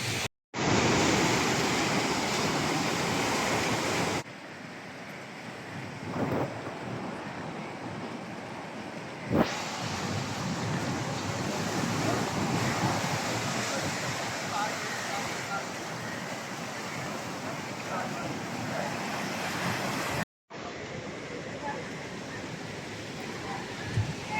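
Rough, storm-driven sea surges and crashes in a continuous roar at a fishing village harbour as gale winds blow, broken by a few abrupt cuts and sharp knocks; someone talks over it.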